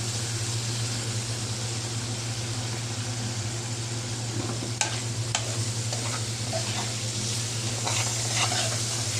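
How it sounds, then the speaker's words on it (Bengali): Spices being fried and stirred in a pan for a potato and eggplant curry, a steady close sizzle with occasional scraping clicks from the stirring and a low hum underneath. "এখন আমি মশলা কষানো শেষ"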